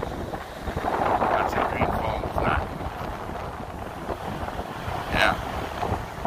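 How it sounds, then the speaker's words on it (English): Strong wind buffets the microphone at a sandy beach with dunes and blowing sand, a steady loud roar throughout, while a voice speaks over it. "Yeah, super windy out here,"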